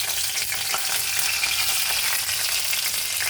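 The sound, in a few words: black cumin and green chilli tempering sizzling in oil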